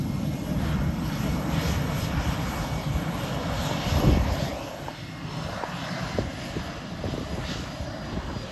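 The Blue Angels' C-130 Hercules support plane, Fat Albert, passes over NAS Pensacola with a loud, steady propeller-engine drone that swells briefly and then eases, close and continuous.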